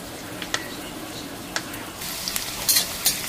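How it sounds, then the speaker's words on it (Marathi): Chopped onion frying in a pan, a soft steady sizzle with a few light clicks and scrapes of a utensil, close but gentle, brightening toward the end, with no talking. "इथे कांदा फ्राय होतोय"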